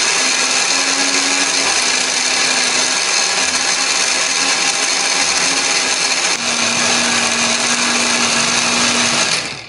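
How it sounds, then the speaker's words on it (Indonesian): A kitchen blender grinds chopped spice paste ingredients with added water or oil, a loud, steady close-up whir running continuously with a brief change in pitch partway through before cutting off at the end. "Nah, ini biar lebih gampang untuk blendernya."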